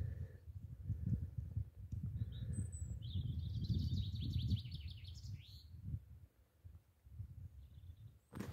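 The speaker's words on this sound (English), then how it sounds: "There's the wee birds making nests." Small birds chirp and tweet in bursts on a hillside while they build nests, the calls clear over steady wind and outdoor rumble, with a brief fast trill in the middle and short chirps at the end.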